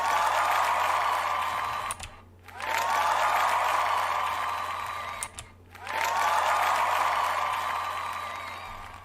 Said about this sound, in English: Claps for everyone that used the discount yesterday.